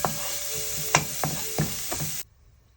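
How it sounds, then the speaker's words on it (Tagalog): Garlic frying in oil over medium heat, a steady close hiss with a few sharp stirring scrapes and clicks, ending abruptly in near silence. "Add oil. Medium heat fire, and then fry the garlic until"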